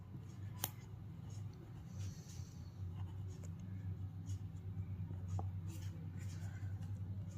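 A pen or pencil scratches across paper during a fifth-grade maths lesson, with soft, steady writing strokes running under a voice talking throughout.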